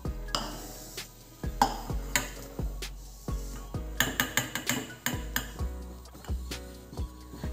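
Grated coconut goes into a mixer jar for Kerala thattukada-style coconut chutney, marked by a steady run of sharp metallic clinks and taps from a spoon against the jar, close and distinct.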